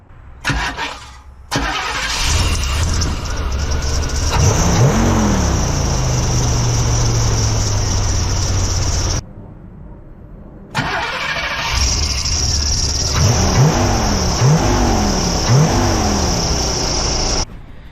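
Engine of a 1991 3500 wrecker truck with a new starter, cranking, firing up and revving loudly several times close by, cutting out briefly, then restarting and revving again.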